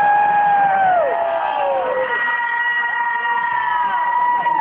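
Concert crowd at a live rock show screaming, whooping and cheering loudly, with several high shrill screams rising and falling over a continuous roar.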